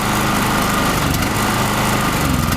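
A small gas-powered generator engine runs loud and close, its rough, buzzing drone holding steady with slight shifts in revs.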